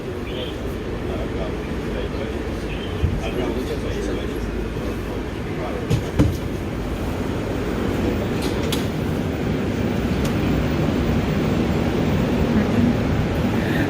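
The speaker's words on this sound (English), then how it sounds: "That is, guys, the new train." New Moscow metro train running through the tunnel near Lubyanka, a loud, steady rumbling roar of wheels and motors that builds slightly over time, with a few brief clanks.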